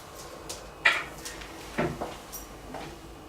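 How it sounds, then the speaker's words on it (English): A kitchen cupboard door in front of a fridge is opened, giving a sharp wooden clack followed by a second knock and light rattles, close by in a quiet room. "you have to open a cupboard door and then open the fridge door"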